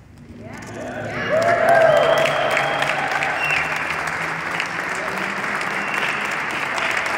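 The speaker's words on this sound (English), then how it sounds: "Give him one more round of applause." A large crowd of fans gives a sustained, loud ovation with dense applause and cheering at a Patrick Marleau Day proclamation ceremony. The applause swells quickly and holds steady throughout.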